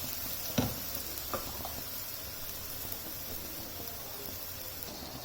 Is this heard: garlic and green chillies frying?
yes